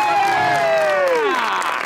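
Studio audience applause and cheering on a Pakistani TV comedy show, a steady crowd wash throughout with a sliding, sung-sounding voice or tone over it.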